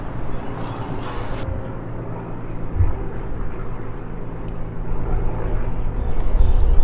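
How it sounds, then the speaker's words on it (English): Helicopters flying overhead produce a steady, distant low rotor drone and rumble that slowly grows louder, alone without talk. "It's those goddamn helicopters again."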